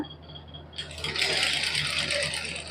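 Sewing machine stitching lace onto a simple suit, starting up after a quiet hum and then running in a steady fast whirring rattle, close by.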